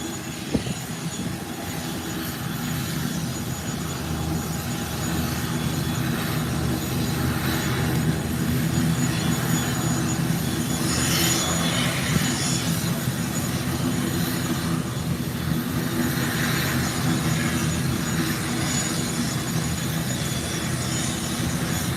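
An ATR turboprop airliner taxis toward the runway threshold for takeoff at Howard Hamilton International Airport, a steady, droning engine roar rising slightly and holding at a distance for about twenty seconds.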